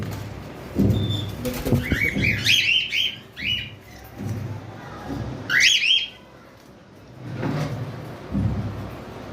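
Pet eclectus and grey parrots, cockatiels and conures give repeated harsh squawks and sharp chirping calls in short bursts. Low rustling and wing flutters sound between the calls, close by, with no speech.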